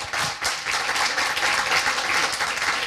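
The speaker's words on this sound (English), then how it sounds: "I'd like a good round of applause for Cameron and Bita." Audience applause rings out at a children's charity gathering, a sustained round of clapping from a crowd lasting several seconds at steady loudness with no talk over it.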